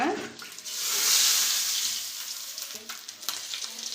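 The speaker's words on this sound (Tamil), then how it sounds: "முட்டை வந்து சூப்பராக பொரிஞ்சு வந்திருக்கு பாருங்கள் எண்ணெயில்" Whole boiled eggs frying in hot oil make a dense, loud, continuous sizzle that swells and eases, with a few faint clicks near the end and no talking.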